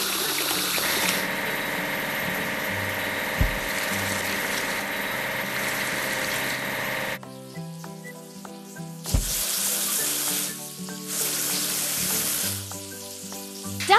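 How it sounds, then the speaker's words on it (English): A crane being washed with water in a kids' building video game, a continuous hissing spray that cuts off briefly and then returns in bursts, with small thuds in between. "We need to wash the crane."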